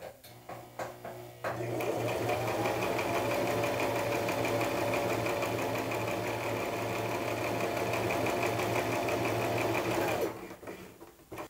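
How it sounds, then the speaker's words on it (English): A sewing machine stitches a seam on chiffon fabric for a frilly wrap dress, running in one long, steady, loud continuous whir for about nine seconds after a few short starts, ending abruptly, with no talking. "we stitch again as if we were doing a normal seam"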